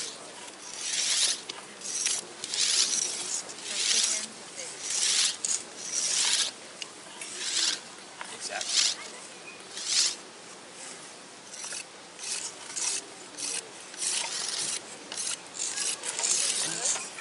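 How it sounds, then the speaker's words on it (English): Horseweed stalk being scraped with a blade to prepare a hand-drill spindle at an outdoor primitive-skills class, a close, rhythmic series of raspy strokes repeating steadily throughout. "Scraping the horseweed, you'll notice it's got an interesting smell to it."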